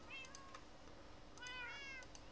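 A cat meows twice, the calls short, faint and slightly distant over a quiet background.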